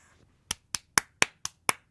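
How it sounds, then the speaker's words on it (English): A single person claps seven sharp, evenly spaced times after a brief quiet start, each clap crisp and close with a quick decay, no voices. "Somebody's clapping."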